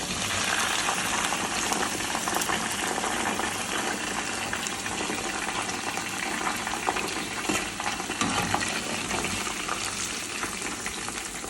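Plantain pieces for kelewele sizzle and bubble in hot oil in a dense, steady frying hiss that continues without a break, with faint stirring and clinking in the mix.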